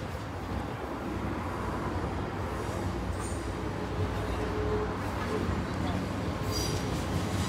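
A train rumbling past Lincoln High Street level crossing at night with a steady low roar and rattling wheels, a brief high squeal near the end, faint voices in the background.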